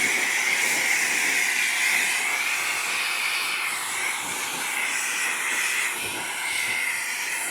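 A Ryobi high flow detailing pressure washer sprays water in a steady, loud hiss that runs unbroken throughout, dipping slightly midway with no voices present.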